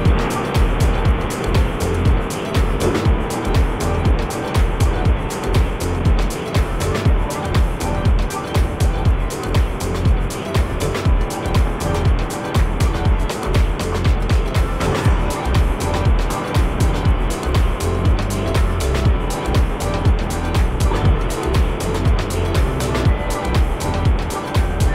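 Yamaha NMAX scooter ridden at speed on a hilly road, its engine droning steadily with heavy wind rush buffeting throughout, loud and continuous with no pauses.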